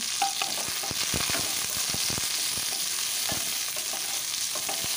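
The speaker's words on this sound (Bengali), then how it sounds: "আর কুলগুলোকে অল্প একটু তেলের মধ্যে নেড়ে নিচ্ছি" Jujube berries stirred briefly in a little hot mustard oil for tomato jujube chutney, a constant sizzle with repeated spatula scrapes and taps against the pan.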